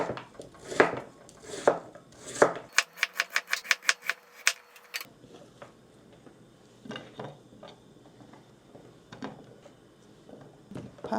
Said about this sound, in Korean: 그동안 이제 이걸 썰어야지.